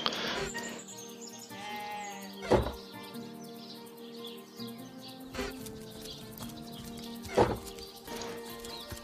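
Sheep bleating in the video game Divinity: Original Sin, two short bleats sounding over a steady game music bed with ambient birdlike chirps.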